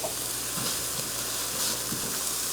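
Minced garlic and onions cook in a pot with a steady, soft sizzle and hiss, a continuous close frying texture with faint stirring bumps and no talking.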